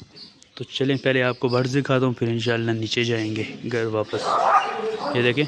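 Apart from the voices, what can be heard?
dogs barking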